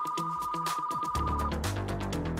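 A telephone bell rings in a detective's office, a steady bright electronic tone sounding for about a second and a half over background music that swells and continues after the ring stops.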